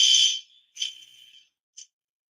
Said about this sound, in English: that is a fire alarm that just was pulled or has just gone off